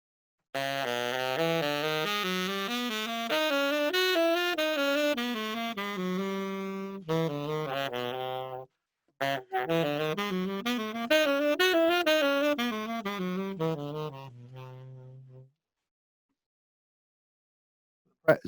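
Piano plays a winding jazz melodic line, each chord tone approached chromatically from a half step above and below, in two phrases separated by a short pause.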